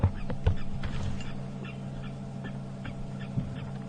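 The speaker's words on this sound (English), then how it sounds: "You can hear some birds' alarm calling" Birds giving alarm calls during a safari drive, a scattering of short honking and squawking calls at a moderate distance over a low steady vehicle hum.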